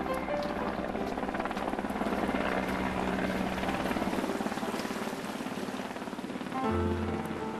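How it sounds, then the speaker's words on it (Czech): Rescue helicopter at an improvised heliport in the Karakoram mountains, its rotor chopping steadily and fairly loud for the whole stretch, with a deeper engine tone swelling near the end. "helikoptéru a vybudovat pro ní improvizovaný heliport"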